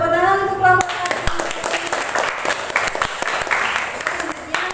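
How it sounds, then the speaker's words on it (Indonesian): In a classroom, students and their teacher clap for a group that has just finished presenting. The applause is brief and close, and a voice speaks at the start before the clapping swells. "tepuk tangan untuk kelompok 1"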